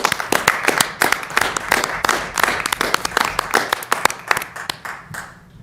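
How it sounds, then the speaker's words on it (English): A small group at a high school committee meeting claps close by, sharp separate hand claps in an uneven rhythm that thin out and stop toward the end. "I'd like to just give a round of applause to the students who have been stepping up and doing the right thing."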